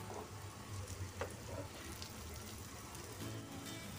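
Raw banana slices shallow frying in a little oil in a pan, giving a steady, faint sizzle with soft crackles throughout and no talking.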